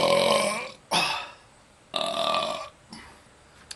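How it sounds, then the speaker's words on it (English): Loud, close belches from a man after gulping a cold drink: one long rumbling burp, then several shorter ones in uneven succession with brief gaps between. "No disrespect with the belch."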